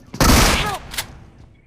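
Shotgun fire in a mobile shooting video game: a short, sharp blast burst followed by a second quick report, close and fairly loud with no speech over it.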